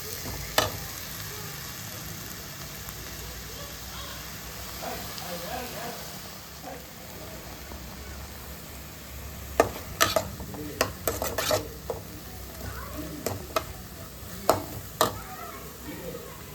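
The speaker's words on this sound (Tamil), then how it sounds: "நல்லா வதக்கிக்கலாம்." Food sautéing and sizzling in a pan, a steady frying hiss with scattered sharp clinks and scrapes of a stirring utensil against the pan, close and fairly loud.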